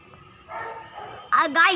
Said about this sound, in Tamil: சாரி காய்ஸ், அது ஒரு நாய் வந்துடுறான்.